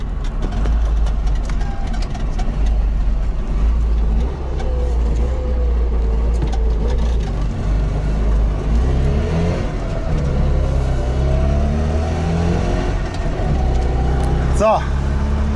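Steady low engine drone of a Trabant 601 cruising along at about 50 km/h after accident repair, continuous and fairly loud, with people talking over it throughout.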